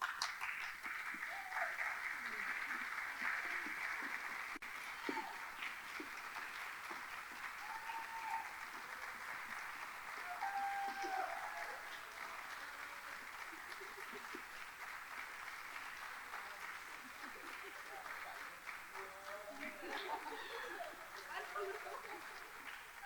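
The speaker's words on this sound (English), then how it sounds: "we ask that all the speakers and organizers come and everyone give one last round of" Sustained audience applause fills the hall at the close of an Appalachian State University Honors College event, steady and dense, with scattered voices and cheers mixed into the clapping.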